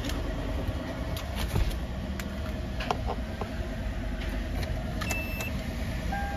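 A 2011 Hyundai Accent with a recurring check engine light runs steadily nearby, a continuous low engine drone with faint clicks and a brief electronic chime, and no voices over it.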